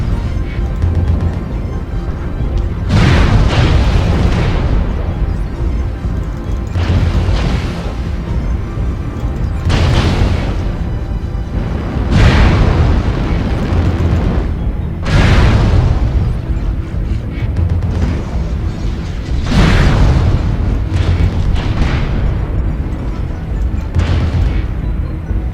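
Mech weapons fire in bursts in a video game while the machines practice shooting and torso spinning: heavy booming volleys roughly every two to three seconds, loud and close, over a continuous rumbling engine bed.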